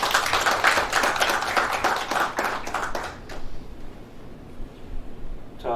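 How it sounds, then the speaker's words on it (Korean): Audience clapping in a dense burst to welcome former Prime Minister Chung Sye-kyun at a Korean political event, loud at first then thinning and fading out after about three seconds into quieter room noise. "우리 정세균 전 총리 후보자를 박수로 모시겠습니다."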